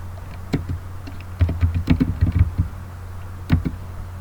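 Keystrokes clatter on a computer keyboard while a network setup is configured, coming in short irregular bursts of clicks with brief pauses and one last lone tap near the end, close and moderately loud with no talking.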